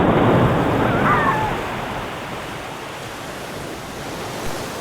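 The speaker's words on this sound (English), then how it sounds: "The ocean looks so big and beautiful." Ocean waves washing onto a beach, a steady broadband rush that swells louder at first and then settles into a softer, even wash, with no voices.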